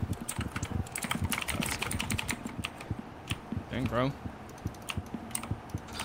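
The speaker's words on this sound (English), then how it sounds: "Who got the clickety clackety oh, keyboard?" Rapid clicking of computer keyboard keys, typed in quick bursts close to the microphone, runs throughout under a man's casual speech and laughter.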